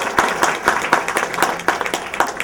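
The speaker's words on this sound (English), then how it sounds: "I want to first of all give them a big round of applause" Steady round of applause from a crowd at a Hall High School Class of 1963 reunion picnic and social, dense overlapping claps at moderate loudness filling the whole stretch with no talk over it.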